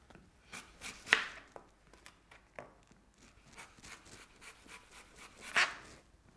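A knife thinly slices an apple on a board, giving light, irregular taps and cuts, a couple of them sharper and louder, in a quiet kitchen with no speech.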